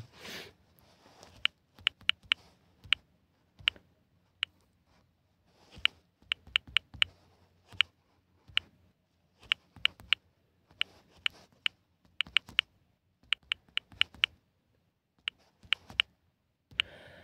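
Computer keyboard typing heard close up, with irregular bursts of crisp clicks and keystrokes separated by brief quiet pauses, and no voices.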